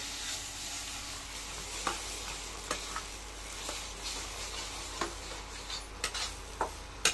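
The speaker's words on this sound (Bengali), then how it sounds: "হ্যাঁ, কড়াইতে একদম ভালো করে নাড়াচাড়া করছে" Boiled amla is stirred and fried in ghee in a kadai for homemade chyawanprash: a steady soft sizzle with scattered scraping spatula strokes and metallic taps against the pan, close up and alone.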